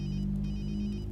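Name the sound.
phone ringing in a cutscene, from the video game Watch Dogs 2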